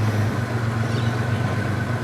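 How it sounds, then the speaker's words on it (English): A stock block engine idles steadily with a low, even rumble and a constant hum, close by and alone, no voices. "just idling here now, it seems fine"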